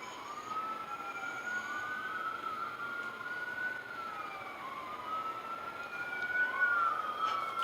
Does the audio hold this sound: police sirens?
yes